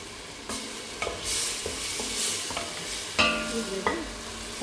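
Tomato and ground onion sauté for a mutton curry, sizzling steadily in the pan while a spoon scrapes and stirs in several distinct strokes, with a sharper clatter near the middle; no talking.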